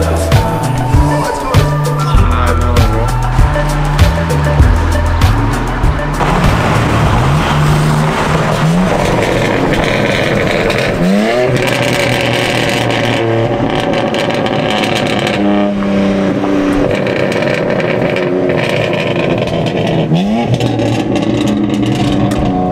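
A boxer-engined car revs loudly at a Cars & Coffee meet in Michigan, with repeated rising and falling blips over a busy background and occasional voices.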